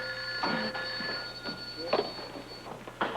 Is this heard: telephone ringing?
yes